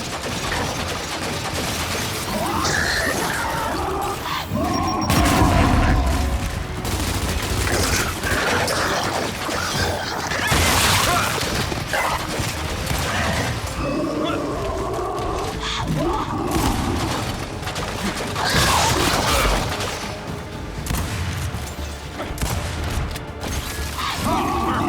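Explosions and gunfire in Gears of War 5: a dense, continuous battle din of blasts, crashes and rumbling booms, loud throughout, with voices shouting over the chaos.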